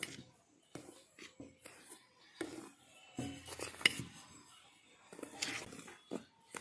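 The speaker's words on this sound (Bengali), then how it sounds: "তিনটি উপকরণ একসঙ্গে আমি নুনের সঙ্গে মিলিয়ে নেব" Batter ingredients for patishapta are mixed with a pinch of salt in a bowl, giving soft, irregular scraping and clinking of a utensil against the bowl, quiet and close, with pauses between strokes.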